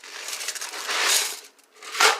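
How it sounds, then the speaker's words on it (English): Ice cubes dropped into a drink glass for iced coffee, giving crackly clinks and a rattling tumble, with a brief pause and then a final sharp clatter, close and fairly loud. "I'm going to add just a little bit of ice."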